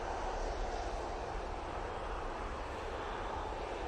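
Aer Lingus jet airliner passing overhead at an airport, a faint, even wash of engine roar and rumble, steady for a few seconds with no voices over it.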